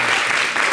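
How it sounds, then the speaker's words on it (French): Brief burst of audience applause in a television studio, a dense, loud wash of clapping lasting under a second. "Applaudissez fort."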